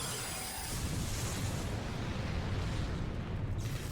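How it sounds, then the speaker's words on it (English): A rumbling, roaring explosion-like blast in the video game Final Fantasy XIV, with crackling noise filling the clip, dense and sustained, with a hiss fading partway through. "Cool guys, don't look at explosions."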